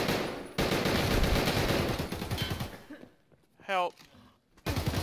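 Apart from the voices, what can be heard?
gunfire in the video game Escape From Tarkov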